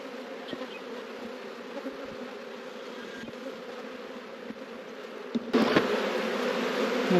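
Honeybees buzz around an opened hive during an inspection, a steady close hum with a few faint knocks and a brief louder burst of activity near the end.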